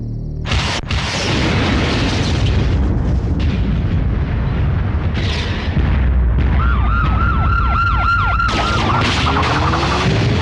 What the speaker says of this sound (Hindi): ट्रांसफार्मर उड़ा।